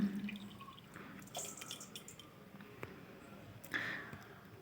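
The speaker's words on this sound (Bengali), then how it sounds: "তারপর জল ঝরতে দিলাম" Soaked rice drains quietly, and water drips from it in scattered soft drops and small splashes.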